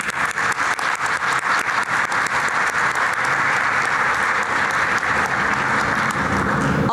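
Sustained applause from an audience, steady and dense clapping throughout without a break.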